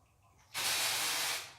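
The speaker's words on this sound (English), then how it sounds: "I tend to spray it into the root, leave it for a few seconds and then let it dry" A dry shampoo aerosol can fires one sustained hissing burst of about a second onto the roots of afro hair, loud and close, then tapers off.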